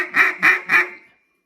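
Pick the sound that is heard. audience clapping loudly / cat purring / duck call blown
duck call blown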